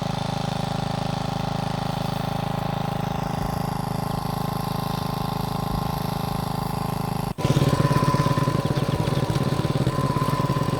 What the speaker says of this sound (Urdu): اب یہ ٹریکٹر پھر سے چلنا شروع ہو گیا صفائی کے بعد